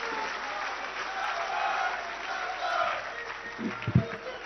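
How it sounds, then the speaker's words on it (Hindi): Crowd applause at a BJP election rally in Rajasthan, a dense, steady roar of many hands clapping with faint background voices, continuing throughout before a few louder thumps near the end. "जोरदार तालियों के साथ मैं उद्बोधन के लिए आमंत्रित करना चाहूंगी"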